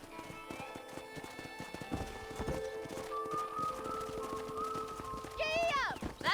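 Horse hooves clip-clop at a steady, fairly close rhythm in the Western video game Red Dead Redemption, with music and game sounds layered over them and a brief whinny near the end.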